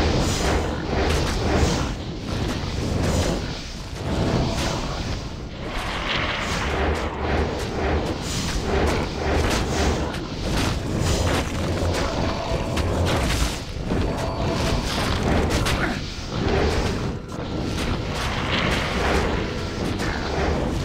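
Corpse explosions and combat in the video game Diablo 2 make a dense, continuous run of booming blasts and rumbling impacts, loud and unbroken with no talk over them.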